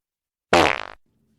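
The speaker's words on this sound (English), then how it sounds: "those farts had a weird, almost kind of rhythm to them" A single loud, close fart bursts out with a sputtering, rhythmic flutter that trails off after about half a second, followed by silence.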